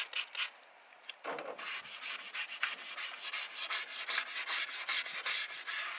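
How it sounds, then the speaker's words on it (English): Steady abrasive rubbing as a faded, yellowed car taillight is hand-sanded after a diluted degreaser wash, repeated back-and-forth strokes close up with a brief pause near the start. "And then I'm going to start sanding it."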